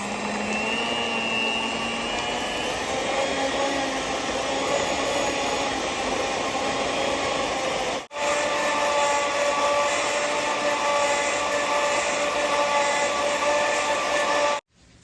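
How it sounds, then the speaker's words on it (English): Electric hand mixer beating butter, a steady close motor whine running continuously with a brief cut near the middle and stopping at the end. "So I'm going to mix this butter for about 2 minutes."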